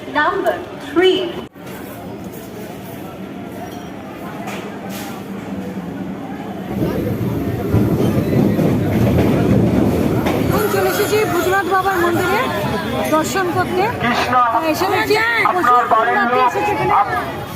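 A dense crowd chatters loudly nearby at a crowded railway station, a continuous babble of many voices, with one person talking close to the microphone.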